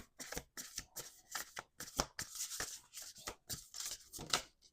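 Oracle cards shuffled by hand in a quick series of crisp riffling bursts with short pauses, close and clear with no talking.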